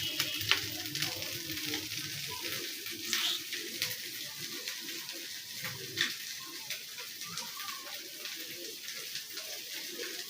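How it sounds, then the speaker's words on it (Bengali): Greens simmering with rohu fish heads in a pan, a light steady sizzle with soft stirring scrapes and a few sharp clinks against the pot, quiet and close, with a faint voice in the background. "শাক রান্না করছি মাছ দিয়ে, মাছের মাথা দিয়ে।"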